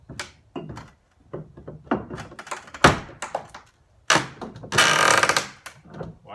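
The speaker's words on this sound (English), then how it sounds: "Wow, you hear all that creaking and popping?" An Estwing wrecking bar pries wood apart, giving a string of sharp, close creaks, pops and thunks at uneven intervals, ending in a louder splintering burst.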